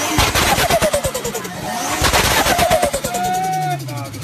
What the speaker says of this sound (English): Now, when compressor surge, aka turbo flutter, happens, it makes a very characteristic sound.